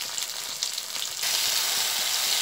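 Eggplant and ridge gourd with dried red chilli and five-spice seeds frying in hot oil, a loud, dense sizzle that surges abruptly halfway through and then holds steady, close by.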